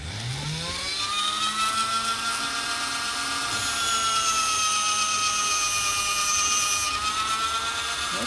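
3M abrasive plastic bristle wheel on a power tool spinning up, a rising whine that settles into a steady high-pitched grinding hum, louder and brighter as it contacts the workpiece, with no talk.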